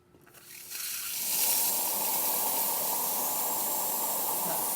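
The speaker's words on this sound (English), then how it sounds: "So here's the steam." The steam wand of a freshly serviced La Pavoni lever espresso machine opens with a rising hiss that settles into a steady, loud, close rush of steam.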